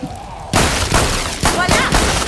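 Gunfire in Killing Floor 2 as zombies are shot. Loud, close bursts start after a brief quieter lead-in and come as several heavy shots in quick succession.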